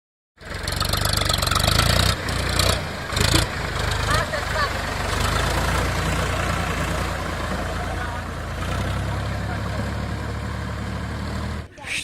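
A tractor engine runs steadily and close by for the whole stretch, a loud low rumble with brief surges near the start, while people talk over it in a rural village setting.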